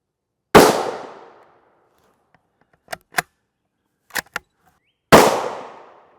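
Two loud, close rifle shots from an SSG with a 23.5-inch barrel ring out outdoors several seconds apart, each a sharp crack with a decaying tail, with faint distant impact clicks and clanks between them.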